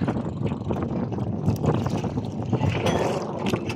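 Small boat crossing open water at Sibaltan Bay, with engine and wind rumble and splashing waves, steady and close throughout.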